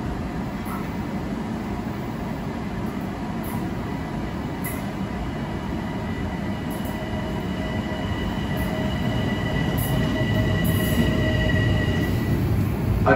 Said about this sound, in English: arriving at 6:35 is train 1730 from New York on track number 1